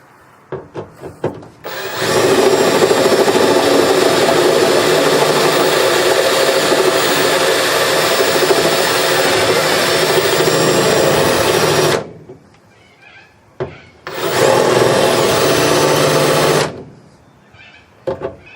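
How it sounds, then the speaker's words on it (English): A spot weld drill grinds through steel car floor spot welds on a restoration, one long continuous whirring cut followed by a shorter second burst, with brief quiet between. "So center punch these 3 spot welds, pilot hole, and spot weld drill."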